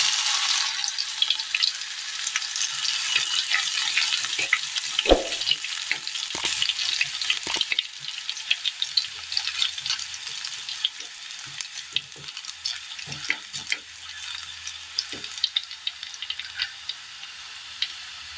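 Mustard seeds and crushed garlic fry in hot oil in a pan, a dense close crackle with sharp pops and spatters, loud at first and thinning into scattered ticks.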